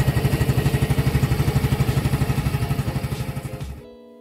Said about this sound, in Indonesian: jadi suara mesinnya emang seperti ini